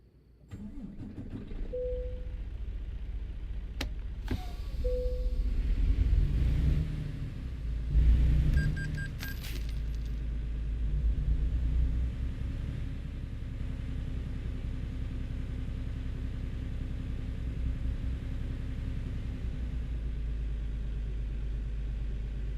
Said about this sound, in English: this engine is like having your head in a subwoofer